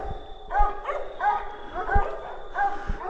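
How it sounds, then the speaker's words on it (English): Dogs bark and yip in short bursts from some way off across wooded hunting land, a few spaced calls with harmonic tone rising over a steady low background. "I hear the dogs"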